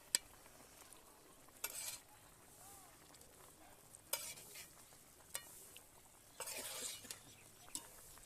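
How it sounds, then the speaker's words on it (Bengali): Fish go into a boiling taro curry in a pan, with bursts of sizzling and scraping from stirring and a few light clinks of utensil on metal, quiet between the louder spurts. "এই দেখেন তরকারিটা ফুটে গেছে। এবার আমি মাছগুলো দিয়ে দেবো।"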